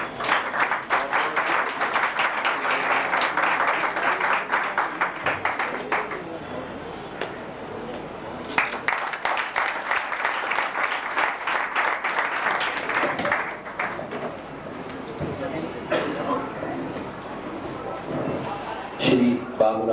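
Sustained, loud crowd applause at an award distribution ceremony in New Delhi, dense clapping rolling in waves across the stretch, with a voice speaking over it near the end.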